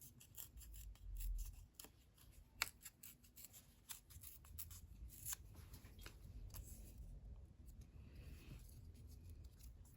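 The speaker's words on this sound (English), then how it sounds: "Okay, I'm gonna rip this." Scraps of paper are torn by hand in a quiet room for journal crafting, giving faint, close, dry ripping and rustling in short irregular bursts.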